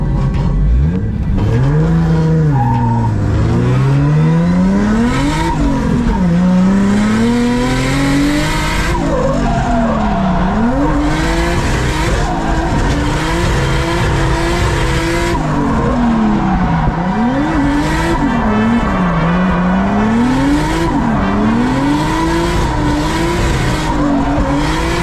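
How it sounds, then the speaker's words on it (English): At night at Mondello, a drift car holds long, loud, wavering tire squeals and skids while the engine revs and falls continuously and close by, with no talking. "Not only first time drifting in the dark in Mondello, but it's actually first time drifting in the dark ever."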